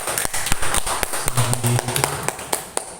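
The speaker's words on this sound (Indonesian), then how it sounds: "Kita beri aplaus untuk Pak Perusahaan." Scattered claps from an audience at a school principals' award ceremony, a few irregular hand claps and taps rather than a full ovation, moderately near, with no talking.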